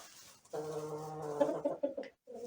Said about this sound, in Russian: здороваются уже курочки